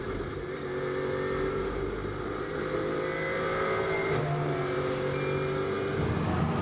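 GT4 race cars cruise around the Misano circuit on a hot day, engines droning steadily at moderate revs with a brief rising note, no voices over them.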